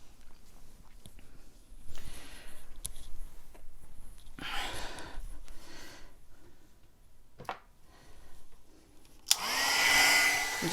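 A heat embossing tool blows warm air in short and longer bursts while it warms up for a paper craft box project, and a loud, close, breathy rush comes near the end.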